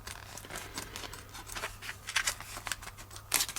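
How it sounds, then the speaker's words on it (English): Scissors snip and crinkle through plastic packaging to free a Muc-Off sponge, with close, irregular cuts and rustling over a few seconds. "you have to cut it out of its package, like this, without cutting the sponge"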